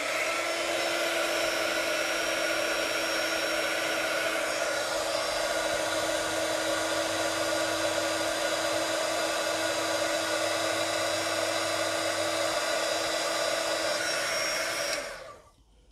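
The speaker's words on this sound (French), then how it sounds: "je vais venir chauffer pour que mon encre, ma poudre fonde" Heat tool blowing steadily to melt embossing powder and ink on a Stampin' Up paper craft project, a loud, constant whirring hiss with a faint tonal whine that runs without a break for about fifteen seconds and then cuts off.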